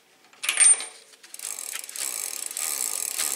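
A Shimano freewheel hub on a bicycle being tightened with a tool, first a short clunk of metal, then a rapid, continuous clicking ratchet close by that keeps going to the end.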